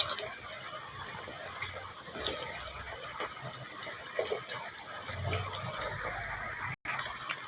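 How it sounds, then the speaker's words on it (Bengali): Potatoes sizzle in hot white oil with a little salt in a heated wok, a steady bright hiss that swells when the pieces go in and holds close and even throughout. "এদিকে কড়াই গরম হয়ে গেছে দেখো সাদা তেল দিয়েছি তেলে একটু নুন দিয়েছি হ্যাঁ আর আলুগুলো ছেড়ে দিলাম আলুগুলো আগে ভেজে নেবো"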